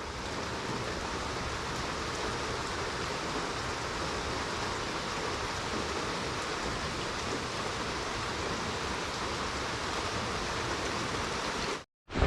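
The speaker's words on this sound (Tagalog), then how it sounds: "Ang ulan eh." Steady, dense wash of heavy rain pouring down outdoors in a wet-weather setting near Banahaw, continuous and loud from start to finish, with no voices, then cutting off abruptly near the end.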